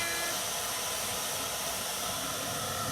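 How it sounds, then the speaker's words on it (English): A hair dryer blowing to dry paint on a pumpkin yard decoration, a steady loud whooshing hiss running continuously and alone. "I'm going to hit it with the blow dryer because we are ready to go to outlining"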